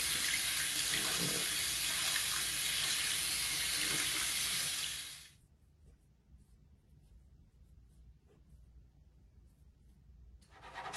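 Tap water runs hard into a bowl being rinsed in a sink, a steady bright hiss for several seconds that stops abruptly, leaving a quiet room with small clinks before the water starts again.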